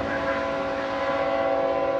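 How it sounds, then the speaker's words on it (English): A Norfolk Southern auto rack freight train led by an ES-44 locomotive sounds a sustained, steady horn chord with a low rumble beneath, carrying clearly from a moderate distance. "Looks like an auto rack train from here."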